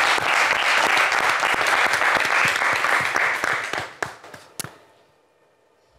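A French television game-show studio audience bursts into loud, dense applause that holds steady for about four seconds, then thins to a few scattered claps and fades to near silence.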